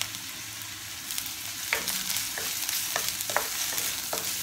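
Onion, ginger and garlic fry in a little oil in an iron pan, with a steady close sizzle and several sharp clicks of a utensil scraping and stirring.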